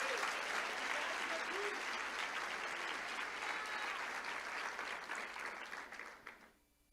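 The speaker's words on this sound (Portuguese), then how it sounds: "Você consegue aplaudir ao Senhor pela sua palavra agora?" A church congregation applauds during a sermon, a dense sustained clapping that holds steady for several seconds before tapering off at the end.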